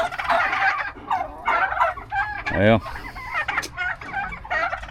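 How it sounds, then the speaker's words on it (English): Turkey toms gobble in a barnyard, one loud, close, rattling gobble standing out amid a steady chorus of fowl calls, with someone speaking briefly. "May have 3 Toms."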